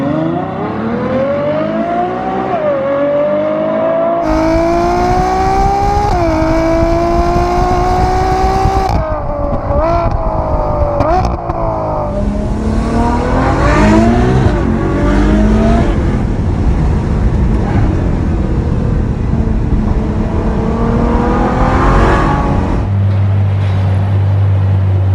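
A Ferrari FF, just repaired after a transmission issue and fitted with a modified exhaust, accelerates hard on the road, its loud engine rising in pitch through several gear changes, then settling before another surge and a final drop.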